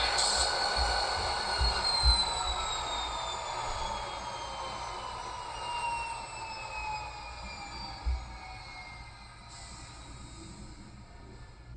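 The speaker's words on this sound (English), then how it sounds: "I'll go ahead and turn off the locomotive, turning off function 8" A Rapido GP40 model locomotive with a LokSound v5 decoder winds down its diesel shutdown sound, its tones sliding slowly lower and fading over several seconds, with a couple of faint clunks along the way.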